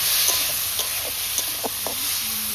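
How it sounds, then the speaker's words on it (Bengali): Potatoes frying lightly in a pan with salt and turmeric give a steady, close hiss, broken by soft clicks of stirring. "লবণ, হলুদ দিয়ে একটু আলুটা আমি হালকা ভেজে নেব"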